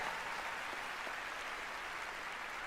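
Applause from a live awards-show audience, a steady dense wash of clapping that stays even and fairly loud for the whole stretch, with no break in the sound.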